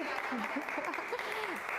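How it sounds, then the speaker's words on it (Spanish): Faint applause from an audience at an exhibition event, a steady wash of clapping with voices talking over it. "Vamos a dar aplausos"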